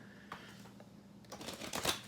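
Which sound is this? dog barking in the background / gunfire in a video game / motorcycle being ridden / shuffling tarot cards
shuffling tarot cards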